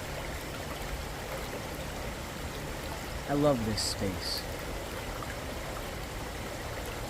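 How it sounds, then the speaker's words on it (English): Cold stream water runs steadily through Mount Shasta City Park, a soft continuous trickle and babble with a brief spoken phrase over it. "The water that runs through this park"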